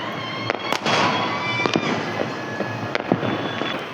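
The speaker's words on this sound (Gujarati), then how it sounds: "જો કેટલા બધા ફટાકડા ફૂટે છે" Firecrackers crackle and pop repeatedly in irregular bursts during Uttarayan, heard from a rooftop, some sharp and close, others farther off, over a steady noisy outdoor background.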